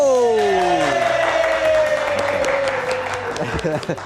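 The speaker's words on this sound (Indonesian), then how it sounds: "kita kasih tepuk tangan sekali lagi" Late-night live TV studio audience applauds and cheers to welcome a guest ustadz, crowd clapping under loud voices and whoops, with a descending whistle or tone sweeping across it.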